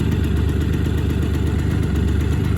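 A 1986 Honda MT5 motorcycle engine idles just after a cold start, a close, steady, loud putter with a fast even pulse and no pauses or talk.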